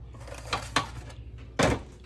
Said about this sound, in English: Let me open my oven.